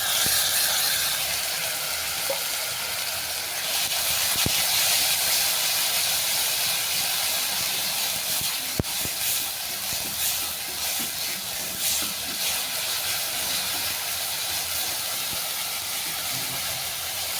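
Sesame-poppy seed paste and tomato paste masala sautéing in a pan for an elephant foot yam and katla fish curry gives a steady, fairly loud hiss that runs unbroken throughout, with a few faint clicks.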